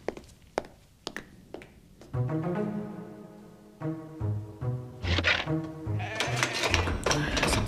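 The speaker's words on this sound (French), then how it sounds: "notre mouton mutant semble avoir peur du noir" A mutant sheep in an animated cartoon bleats in long, wavering cries, loud and close, after a few sharp taps and thuds at the start, with more clatter mixed in toward the end.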